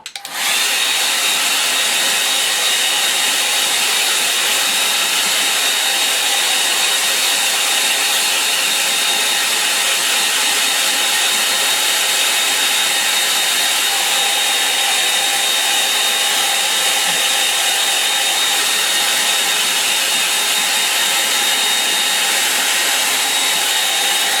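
A hair dryer blows hot air over a fresh cast, running steadily and loudly for the whole stretch as a close, even whoosh with no breaks.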